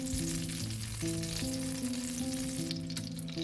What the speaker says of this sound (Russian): Обжариваем 1 минуту.